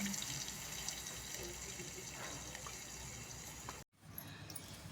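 Steady rushing of water being poured into a cooking pan of potato and capsicum vegetables, a continuous broadband splash that cuts off abruptly near the end, followed by quieter background noise.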